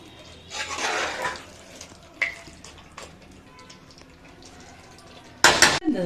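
Fried onions stirred into a pot of chicken dum biryani, with soft scraping and rustling of a spoon, a few light clinks, and a loud metallic clatter near the end.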